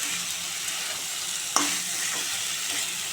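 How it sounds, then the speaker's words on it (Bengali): Taro stolons (loti) being stirred in a frying pan, with a steady broadband sizzle and a single sharp scrape of the spatula midway, close and alone. "ভালো করে লতিটা নেড়ে চেড়ে দেবো ভালো করে"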